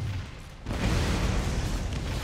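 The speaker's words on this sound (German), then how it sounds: "Explosions!" An explosion in the video game Borderlands bursts in after a brief quieter stretch, becoming a loud, broad roaring blast that holds steadily to the end.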